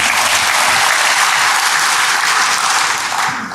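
Congregation applause during a church sermon, a dense, steady wash of many hands clapping throughout, loud and close, tapering slightly at the very end.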